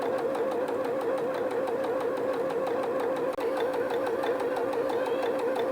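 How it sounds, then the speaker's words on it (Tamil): A sewing machine stitches cloth with a steady, fast mechanical whirr and rhythmic needle chatter, running evenly and close throughout with one brief hitch. "ஸோ இப்போ நம்ம ஸ்டிச் பண்ணி பார்க்கலாம்"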